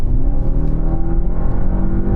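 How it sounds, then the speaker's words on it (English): A plug-in hybrid car accelerates at full throttle with its electric motor assisting the engine, giving a loud, steady engine drone that builds without a break. "the plug-in hybrid has more power because you've got that electric motor boosting the engine, but I'm just going to floor this"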